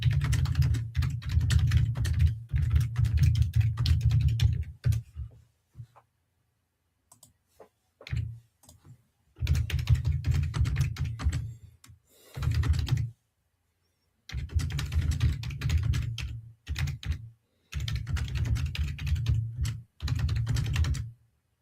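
Rapid bursts of typing clatter on a computer keyboard close by, broken by short pauses and a few isolated key clicks, with no talking.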